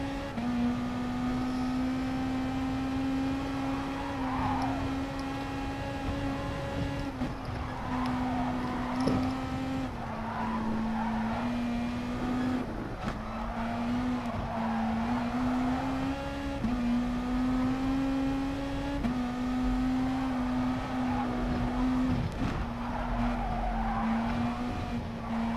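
Race cars battle at the Nürburgring 24 hours, engines droning close and loud with repeated rises and drops in pitch through gear changes, with tire squeal and skidding scattered throughout.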